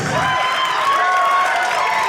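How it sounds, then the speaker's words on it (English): A comedy special's audience applauds and cheers in a dense, loud wash of clapping and crowd noise that holds steady throughout, with no talking over it. "please continue your applause, please"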